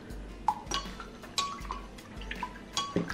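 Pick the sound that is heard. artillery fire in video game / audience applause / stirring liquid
stirring liquid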